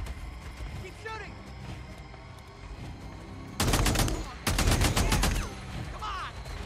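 Gunfire in the Days Gone video game: two dense bursts of rapid shots over a steady game background, with excited players shouting over the action.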